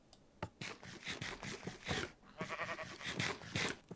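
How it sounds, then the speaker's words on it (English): Sheep in the video game Minecraft bleat in a string of short wavering calls, fairly close and clear, with brief gaps between them and no talk. "Hello, sheep."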